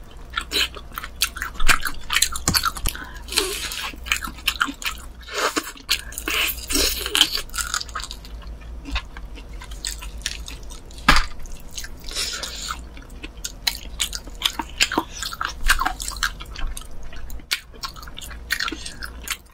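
Close, detailed chewing and crunching of spicy mayo fried chicken coated in sauce, a new menu item from Nene Chicken. The bites repeat steadily for about twenty seconds with wet, crackly mouth sounds and no talking.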